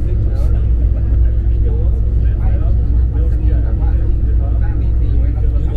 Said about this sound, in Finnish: Joo, tämmönen bussi.